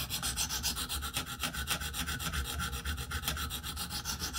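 Blade of M390 steel drawn over a sharpening stone on one side, a rapid run of rhythmic rasping strokes at close range, even and unbroken, with no voices.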